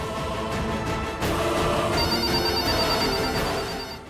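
A telephone rings in repeated electronic trills, steady and fairly loud, with a busy mechanical-sounding background and no one speaking.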